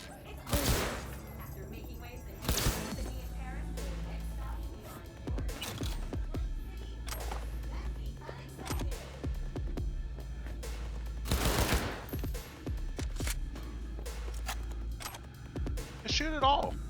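Gunfire in the video game Cyberpunk 2077, several loud, sharp bursts of automatic fire spaced a few seconds apart over a steady low game rumble, with people talking between them.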